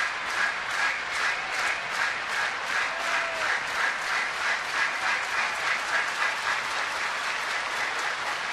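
Baseball stadium crowd at an Orioles home game against Toronto, with a steady wash of cheering and rhythmic clapping rolling on continuously from a distance.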